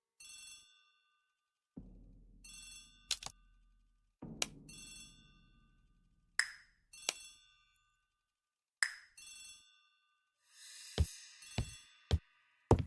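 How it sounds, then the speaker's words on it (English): Within a puzzle adventure game, a telephone in a hall rings in repeated bright bursts, separated by pings, chimes and short musical stings, with no talk. "The telephone in the hall is ringing."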